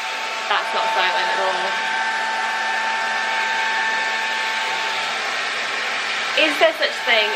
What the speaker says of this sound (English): is there such thing as a silent hairdryer?